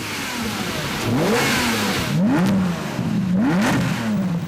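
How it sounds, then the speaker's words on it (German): A fully renovated Lamborghini Murciélago V12, close to 600 hp, revs repeatedly in loud rising and falling bursts, about three sharp climbs over a steady close engine drone, with no talk. "Der komplett renovierte V12 brüllt markerschütternd."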